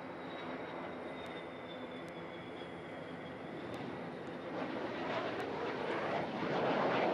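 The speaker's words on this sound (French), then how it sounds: "Now coming in for landing the Rafale C from the French Air Force." A Dassault Rafale C fighter jet's broad engine roar swelling steadily louder as it comes in to land at an air show, with no voices.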